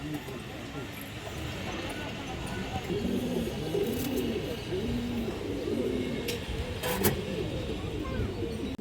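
Pigeons coo repeatedly in soft, rolling phrases, steady over a constant background rumble, with a couple of brief sharp noises.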